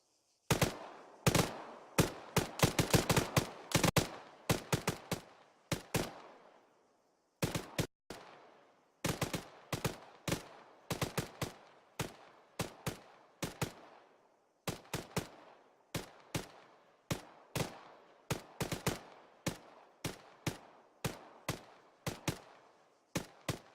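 Military video game gunfire: sharp, close bursts of automatic shots, some rapid clusters and some single cracks, repeating in irregular volleys with short silent gaps between them, no voices.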